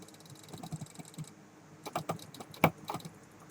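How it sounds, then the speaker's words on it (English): Computer mouse buttons clicking in uneven clusters, sharp close clicks with a quiet pause in the middle before a faster flurry, no speech. "I'm clicking, but nothing's happening."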